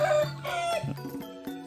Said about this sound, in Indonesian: Suara kokokan